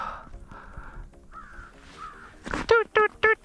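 A seagull near ice fishermen gives three loud, harsh squawks in quick succession at the end, following softer tonal sounds and some quiet background noise.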